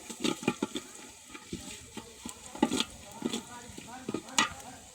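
Cumin and spices crackle in hot oil, tempered for a picnic potato dal, while a utensil clatters and stirs in irregular bursts over a soft, low sizzle.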